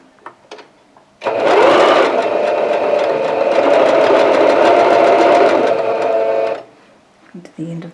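A sewing machine stitching jelly roll quilt strips together runs in one steady, close, whirring burst of about five seconds, preceded and followed by quiet handling sounds.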